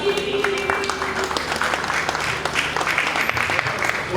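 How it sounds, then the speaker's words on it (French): An audience claps steadily at an evening soirée, with a dense wash of hand claps throughout and a voice speaking briefly over the start. "je vous prie d'applaudir encore une fois très très fort"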